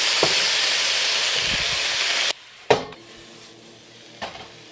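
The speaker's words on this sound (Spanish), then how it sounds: "En esta misma, sin bajar el fuego, en esta misma grasa," Shrimp dropped into hot leftover meat fat in a pan over high heat make a loud, steady broadband sizzle for about two seconds that cuts off abruptly, followed by a few sharp clatters and softer hissing.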